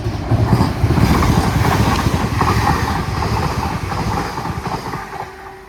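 A Class 802 train passes through Earlestown station, a loud, close rumble of wheels and engine that holds steady before easing away at the end.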